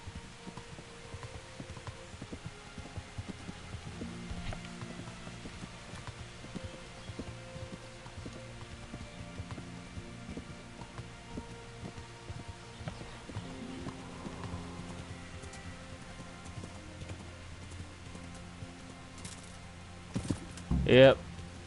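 A horse in the video game Kingdom Come Deliverance clip-clops along in a steady rhythmic gallop under game music and ambient sound, with a brief louder burst near the end.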